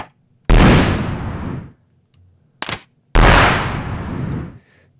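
Two loud synthesized cannon booms from a DSP Motion sound-effect generator, each a sharp blast with a roaring decay of about a second, separated by a brief clipped burst; no talking.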